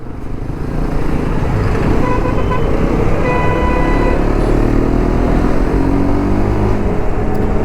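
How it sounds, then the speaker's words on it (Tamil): Busy road traffic heard from a Hero Xpulse 210 motorcycle, with a steady engine and tyre roar throughout and several car horns tooting close by over the rumble. "ஐயோ டிராஃபிக்காக இருக்கு."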